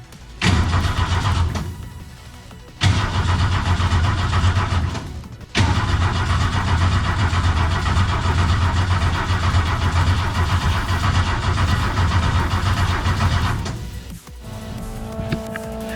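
A Mustang ministock race car engine cranks and catches twice, cutting out briefly between attempts, then settles into a loud, steady rough idle before shutting down near the end, with no talking.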